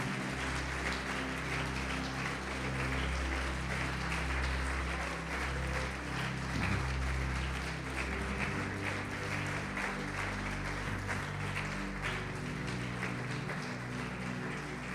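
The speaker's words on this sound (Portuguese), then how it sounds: "Vamos aplaudir bem alto" Congregation applauding in a church service, a steady broad wash of clapping filling the room and holding evenly throughout, with low music or hum underneath.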